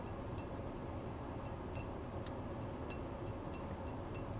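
Light, crisp taps on a solid single-piece metal trim panel inside a Rolls-Royce Cullinan cabin, about a dozen evenly spaced ticks heard faintly over a low background hum.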